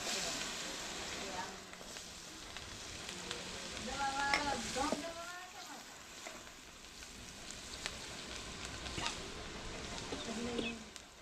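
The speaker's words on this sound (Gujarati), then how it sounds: "પછી આ નાખીએ મરચાં અને હવે નાખીશું કાંદા." Chillies and onions fry in a pan with garlic and curry leaves for a spinach and mung dal dish, a faint steady sizzle with occasional stirring clatter and bird chirps in the background.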